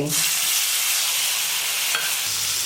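Bitter gourd sizzles steadily in a hot pan as it is stirred and fried, a loud, dense hiss that runs the whole time, with a faint scrape near the two-second mark.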